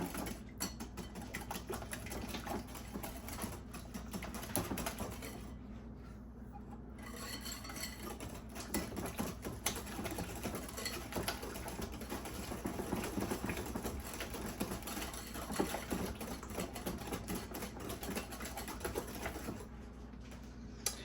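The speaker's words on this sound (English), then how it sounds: "So then you just want to whisk this together." Sweet potato pie muffin batter being whisked in a bowl, a steady scraping, rubbing rhythm that runs close and continuous for about twenty seconds with no talk.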